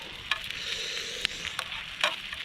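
A pot boils and sizzles on a camp stove at a moto campsite, with a steady hissing bed broken by sharp crackles and pops, close up and with no talking.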